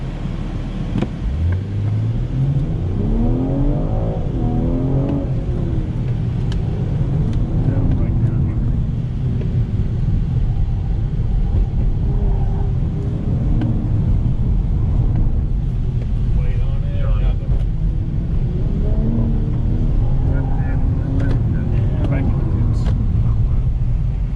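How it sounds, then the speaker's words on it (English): A 3-liter twin-power turbo inline six-cylinder car engine with 382 horsepower and an 8-speed sport transmission drones steadily from inside the car, its pitch rising as it revs and then settling. A voice talks over part of it. "The 3-liter twin-power turbo inline 6-cylinder engine, 382 horsepower, 369 pound-feet of torque, all being forced through an 8-speed sport."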